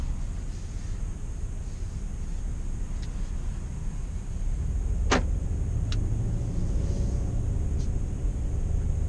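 A 2019 Volvo S60 T6 R-Design AWD, Polestar optimized, pulls away from a dealership lot. Its engine gives a steady low rumble that swells slightly midway, with a few faint clicks and ticks on top.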